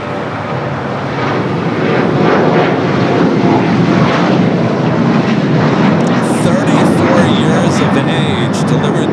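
An airliner takes off from runway 25 right at LAX, a loud sustained jet roar building in the first seconds and then holding steady, with faint radio voices underneath.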